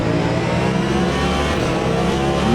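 A Cadillac race car in the Le Mans Ultimate racing game, its engine loud and close, droning steadily with a brief pitch shift as it drops into fifth gear, no voices over it.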